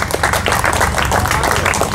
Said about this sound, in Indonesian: Tepuk tangan, jangan tanggung-tanggung.